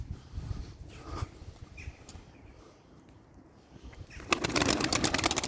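Mirror-tail pigeons coo softly amid light rustling, then a sudden burst of flapping wings fills the end as the birds take off nearby.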